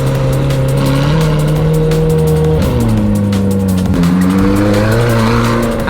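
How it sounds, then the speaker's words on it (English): A rebuilt McLaren 720S sports car drives under steady load, its engine a loud, continuous drone that dips and climbs with gear changes and accompanying tire noise. "this McLaren was just a bare shell, and now it's actually driving"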